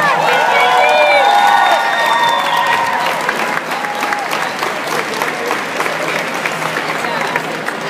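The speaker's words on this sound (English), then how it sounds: "Give them a round of applause." A loud outdoor crowd at a Heart Walk event claps and cheers for survivors, with whistles and shouts over sustained applause that stays steady to the end.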